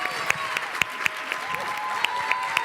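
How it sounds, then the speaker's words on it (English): Audience applause for a student team's presentation at Morgan Park High School, a steady wash of clapping with a few sharp, nearer claps standing out at irregular intervals. "Let's give them a round of applause."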